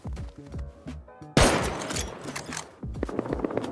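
Automatic AK rifle fire in the survival game Rust, a sudden loud burst of rapid shots followed by further scattered cracks and thumps in a tense firefight.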